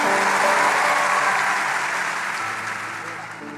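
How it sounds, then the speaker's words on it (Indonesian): A crowd at a church revival gathering gives a burst of applause, loud at first and then gradually fading over a few seconds, with a low hum underneath. "Kasih tepuk tangan untuk mereka, kasihan mereka di belakang."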